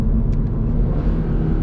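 A Toyota GR86 with the six-speed automatic blips its engine through a rev-matched downshift, a loud, close, steady engine rumble heard from inside the cabin with no talking.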